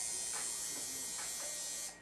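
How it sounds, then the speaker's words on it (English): A tattoo machine buzzes faintly in the background, a steady, thin electric drone that holds for about two seconds before briefly dipping at the end, with no talking. "The noise you might hear in the background is Rebecca's doing tattoos tonight"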